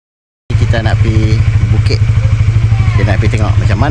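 A motorcycle engine idles loudly and close by at a durian orchard in Titi Teras, Guar Chempedak, with a steady rapid chugging pulse, while a person talks over it.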